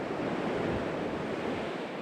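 Ocean waves at La Torche under a north wind make a dense, continuous wash of surf noise. Gusts buffet the microphone throughout, loud and close, with no voices.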